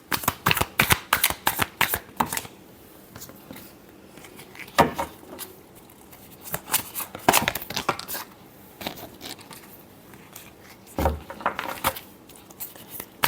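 Tarot cards are shuffled by hand in rapid, repeated bursts of riffling and slapping, close and crisp, with short pauses between rounds.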